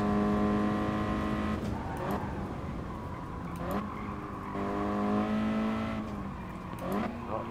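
A race car in the racing game Gran Turismo Sport, with traction control off on a slippery car, howls through rising and falling engine revs as it shifts gears, with tyres squealing at times.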